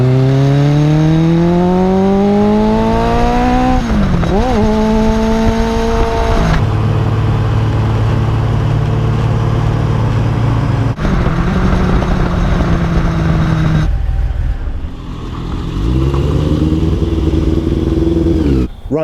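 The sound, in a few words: vintage car engine driving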